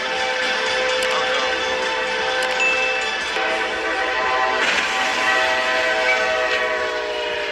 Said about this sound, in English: After a train struck his truck, a driver in Ohio avoided serious harm.